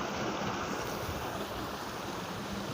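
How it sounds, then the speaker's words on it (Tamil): A big river flowing fast, giving a steady, dense rush of water that fills the whole clip with no pauses, heard close with no talk over it. "ஆற்றுல, பெரிய ஆற்றுல நல்லா ஓடுது"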